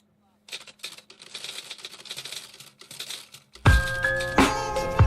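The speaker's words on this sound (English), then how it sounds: "Starts off with a keyboard typing," Keyboard typing opening a song, a quick run of light clicky keystrokes that gives way to a loud musical beat, with some talk faintly underneath.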